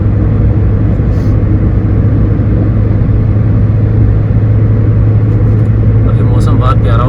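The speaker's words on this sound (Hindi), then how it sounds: "देखिए जी लगातार गाड़ी नीचे जा रही है।" Car engine rumbling steadily as the vehicle descends a mountain road near Al Amerat, Muscat, Oman, a continuous loud drone with road noise and no break throughout.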